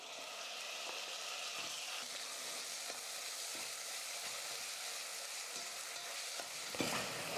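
Chopped tomatoes frying with onions in hot oil for drumstick sambar: a steady, dense sizzle throughout with soft periodic scrapes and clinks of a spoon stirring the pan, no voices.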